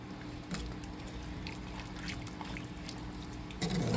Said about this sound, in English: Put the rest of this water in